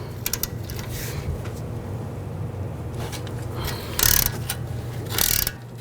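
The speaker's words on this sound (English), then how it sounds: "Helps to use a ratchet wrench once you get it loose." A ratchet wrench works the nut off a sway bar link on a 2010-16 Buick LaCrosse during front strut replacement, making bursts of quick clicking and louder grinding ratchet sweeps over a low background hum.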